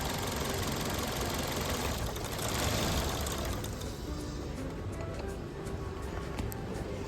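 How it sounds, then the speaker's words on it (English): A car engine runs roughly with the mass airflow sensor disconnected, loud and labored at first, then fades as it stalls, leaving a quieter rumble and faint ticking. "disconnecting the connector from the MAF actually shut the engine off. It struggled for a second, but then it completely shut off"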